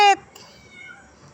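A house cat gives one short, loud meow at the very start, then falls quiet over faint room noise.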